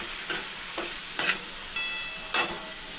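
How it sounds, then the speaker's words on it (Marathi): Bitter gourd (karela) fries in oil with a continuous close sizzle, punctuated by a few light stirring clicks. "छान कारल्या तेलामध्ये फ्राय करून घेते"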